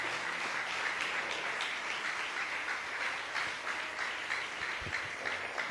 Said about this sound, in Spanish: Dele otro aplauso a Dios en este día, por favor.